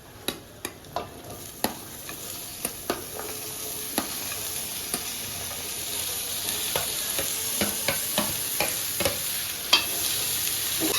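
Onions and green chillies with ridge gourd fry in a pan, a soft continuous sizzle punctuated by sharp taps and scrapes of a spoon stirring, close and quiet, with no voices.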